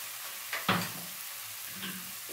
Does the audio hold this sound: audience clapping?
no